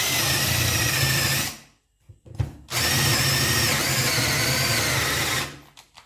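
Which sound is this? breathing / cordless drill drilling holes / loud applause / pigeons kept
cordless drill drilling holes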